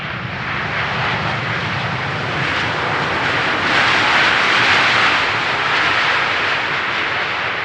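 An airliner touches down on Schiphol's runway 18R, a loud broad engine and rushing roar holding steady throughout and swelling slightly midway, with no voices.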